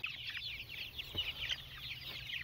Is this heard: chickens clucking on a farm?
yes